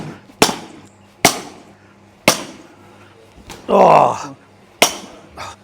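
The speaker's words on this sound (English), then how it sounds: "batting cages so you can hit some balls" A baseball bat hits balls at a batting cage in Bangkok with sharp, loud cracks in a steady rhythm, about five of them, and a brief rushing noise partway through. A voice speaks briefly.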